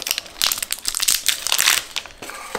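An expired, poorly stored roll of Ilford FP4 film has its wrapper torn open, producing loud, close crinkling and tearing bursts of paper and foil in quick uneven bursts.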